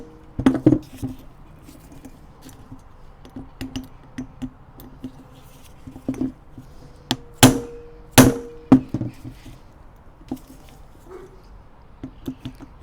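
A hammer strikes a Phillips punch on a Toyota fan clutch in a sparse run of sharp metallic taps and a few louder knocks, near and unevenly spaced, over quiet background.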